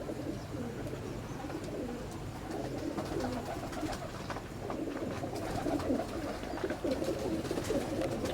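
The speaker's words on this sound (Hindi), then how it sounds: "ये रेड आइज कबूतर हैं" Red-eyed pigeons coo repeatedly at close range, soft throaty calls overlapping in a steady, continuous murmur against a busy outdoor background.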